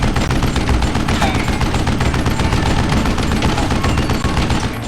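Dense, rapid gunfire rattles nonstop in the Western shooter Call of Juarez: Gunslinger, loud and close, with overlapping shots packed into a continuous fusillade.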